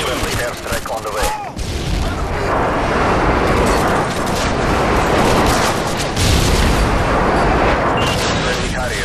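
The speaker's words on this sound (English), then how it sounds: "Friendly airstrike on the way" Friendly airstrike in Modern Warfare 2 gameplay on the Terminal map, a sustained barrage of loud, rumbling explosions and booming blasts rolling one into another, dense and continuous with brief lulls.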